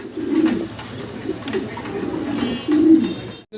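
Andalusian pigeons kept by a fancier coo in repeated low, throaty rolling phrases, close and clear over a faint background hum, with no talking.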